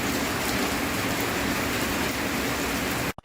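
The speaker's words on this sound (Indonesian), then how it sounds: "akhirnya turun hujan lagi di Makassar" Heavy rain pours steadily in Makassar, a dense, loud hiss of drops hitting surfaces after months without rain, constant throughout and cutting off abruptly at the end, with no voices.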